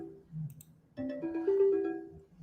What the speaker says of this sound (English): Who's ringing me up now?